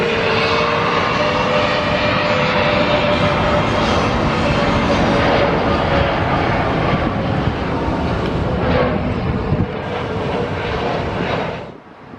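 A loud Airbus A321 jet airliner with IAE engines roars steadily close by at Stockholm Arlanda Airport, a broad sustained engine rumble with a faint whine that fades away near the end.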